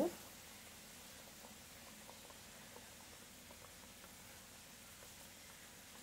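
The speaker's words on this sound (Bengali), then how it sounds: "ঝোল ফুটে গিয়েছে" A soft, steady bubbling of fish curry simmering in a pot, low and even throughout with faint crackles.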